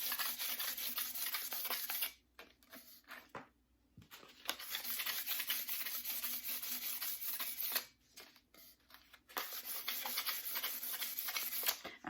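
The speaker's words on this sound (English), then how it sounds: "So I'm just taking 220 sandpaper and I'm just gonna lightly sand it." Light sanding of a glitter tumbler by hand with 220-grit sandpaper, a steady close-up rubbing scrape in long strokes broken by two short pauses, with no talking.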